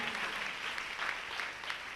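A church congregation claps together at a Tamil worship service, a steady, fairly distant patter of many hands continuing without pause and with no voices over it.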